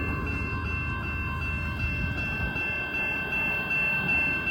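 A Union Pacific freight train with only three locomotives labours up the steep Palmdale Cutoff grade, giving a steady, loud low engine rumble with sustained tonal whine throughout, no talk.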